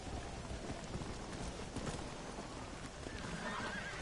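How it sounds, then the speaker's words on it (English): A horse in the Red Dead Redemption video game neighs and gallops with hoof clip-clop, set against a steady hiss like rain across the whole stretch. "Oh my god, my horse run towards me."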